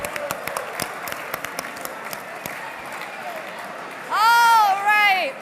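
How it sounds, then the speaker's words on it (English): Audience at a leadership graduation dinner claps in scattered bursts, then a loud voice cheers over the applause toward the end. "Give person A a round of applause."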